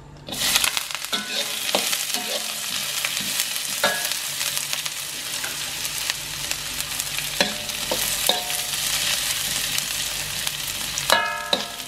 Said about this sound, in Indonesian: kita tumis dulu bawang putih sama bawang bombay yang sudah dicincang